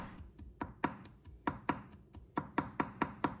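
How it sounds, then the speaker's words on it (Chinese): A kitchen knife chops garlic into slices and then mince on a cutting board, giving steady, crisp close-up taps in a quick regular rhythm, heard alone. "把它切成片， 再切成末，这样蒜香味比较容易出来。"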